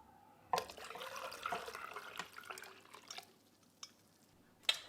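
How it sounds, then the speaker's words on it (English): Water pours into a canning pot on a home kitchen stove, splashing and gurgling up close at a low level, then trailing off into a few scattered clinks and drips. "I'm going to need to add some water to this guy."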